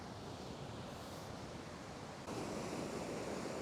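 Surf and white water breaking steadily on a beach in a nor'easter, a continuous broadband roar that swells louder partway through, with wind noise and no voices.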